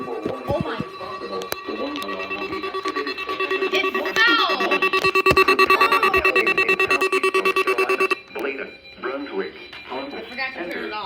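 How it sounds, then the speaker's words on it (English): A NOAA Weather Radio public warning alarm tone blares loudly and steadily for several seconds on a radio, then cuts off abruptly as voices react. "This has been a test of the NOAA Weather Radio public warning alarm system"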